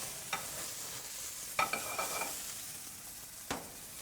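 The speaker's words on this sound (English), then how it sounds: "all we need to do is have a hot pan that we're going to char the outside of the asparagus with" Asparagus chars in oil in a hot pan with a steady sizzle, broken by a few brief scraping stirs and clinks close by, with no talking.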